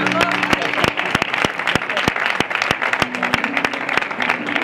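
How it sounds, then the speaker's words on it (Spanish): Audience applause at a Cadiz carnival street performance by a chirigota callejera, a dense steady clapping from a close crowd lasting throughout, with sharper individual claps standing out and some voices mixed in. "Un aplauso, por favor, para ellos."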